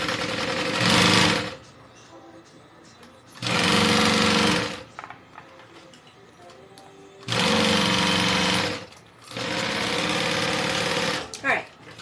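A sewing machine stitches the exterior of a Denver backpack in four loud, steady bursts of rapid mechanical whirring, separated by short quiet pauses with faint handling noise in between.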